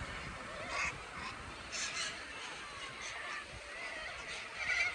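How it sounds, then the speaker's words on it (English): A large flock of corellas calls from trees near cliffs at a busy camping area in Kalbarri National Park, making a steady, fairly distant chorus of harsh screeches that rises and falls, with no talking. "There's corellas everywhere. Big flock of them over in the trees."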